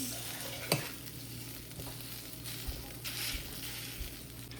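A vada pav filling mixture is stirred in a pan, soft scraping strokes over a low, steady sizzle, with one sharper clink near the start and quiet, close, unhurried movement after.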